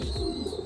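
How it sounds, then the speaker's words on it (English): An Andalusian cock pigeon gives a brief, close, low throaty coo in a pigeon loft, with a steady rolling murmur and no speech. "This is an Andalusian bird, cock bird."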